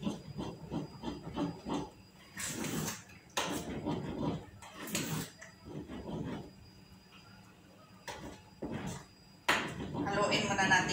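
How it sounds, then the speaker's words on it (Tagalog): A spoon stirs food in a pot, giving a quick run of light scraping and clinking taps, with someone talking over and between the stirring sounds. "Haluin muna natin ito."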